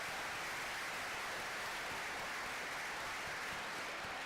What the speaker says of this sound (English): Give them a massive round of applause.